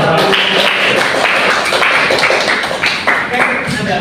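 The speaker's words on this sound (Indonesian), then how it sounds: "Tepuk tangan dong." A classroom of students claps hands together, a burst of fairly loud, uneven clapping mixed with talking voices nearby.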